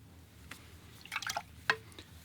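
Watercolor paint is flicked and splashed onto paper in a scattered handful of small wet drips and spatters, close and soft, with one sharper tap near the end.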